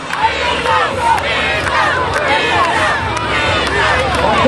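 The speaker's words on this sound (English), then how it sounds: "I see the fans here tonight are cheering him on" A wrestling crowd cheers and chants as a wrestler makes his entrance at a live event, loud, continuous, dense shouting and rhythmic yelling that fills the arena.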